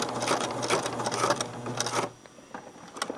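A sewing machine stitches across elastic casing in a steady, fast mechanical whir for about two seconds, then stops, leaving quiet handling clicks.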